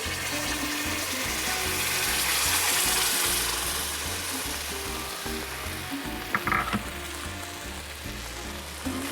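Pasta being reheated in a frying pan with sauce, sizzling steadily and fairly loud throughout, with a few brief clinks of stirring near the end.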